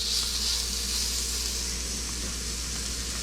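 Food sizzling in a hot cast iron pan, a steady close hiss and crackle that holds evenly throughout, with no talking over it.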